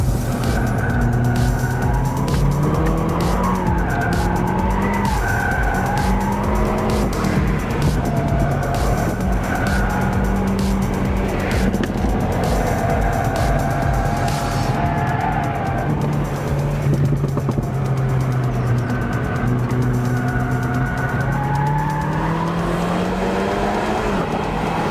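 A modified car is driven hard around a training race track near Berlin, its engine droning and revving through the gears while tires squeal in long skids through the corners, loud and continuous.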